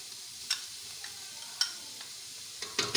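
Bottle gourd halwa with sugar and khoya cooks in a pan with a soft continuous sizzle, while a spoon scrapes and stirs it in sharp occasional strokes close by.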